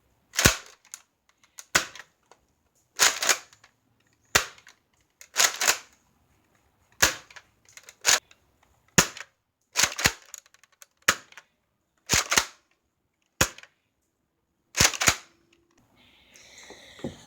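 Nerf Strongarm blaster firing foam darts, a rapid string of about a dozen sharp, loud snapping shots at close range, some with quick double clicks of the action, irregularly spaced, with no talk.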